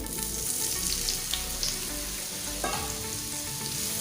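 Salted soya chunks fry in hot oil in a wok, a steady close sizzle with occasional clinks and scrapes of stirring.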